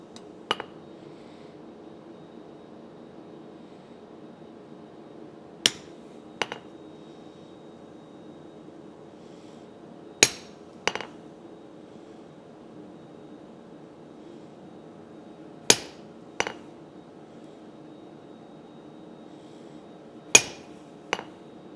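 A hammer forging a hot metal bar on an anvil, striking in sharp, ringing pairs every few seconds over a faint steady background hum.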